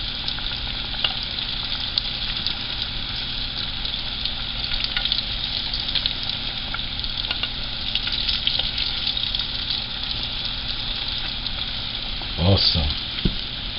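Salmon cakes made with eddo or yam sizzle steadily in a hot pan as they are flipped, with a constant bright frying hiss and a brief clatter near the end; one word is spoken.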